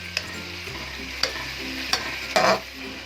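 Chicken karahi with black pepper frying in a pan, a steady low sizzle broken by a few sharp scraping stirs, close and moderately loud with no talking.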